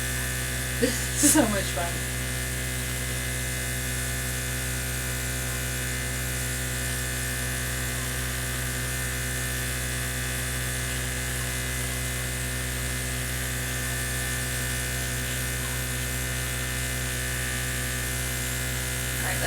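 The compressor of a Luminess Air airbrush makeup system runs with a steady electric hum throughout, with someone speaking briefly near the start.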